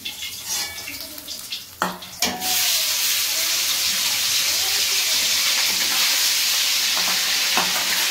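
Fish fries in hot oil, starting with a few clanks and stirring noises, then settling into a loud, continuous crackling sizzle up close.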